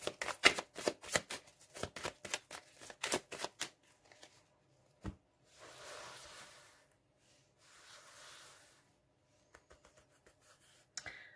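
Quick crisp riffling of a card deck being shuffled for a tarot-style reading, a fast run of sharp flutters up close, then softer sliding and brushing of cards on a surface.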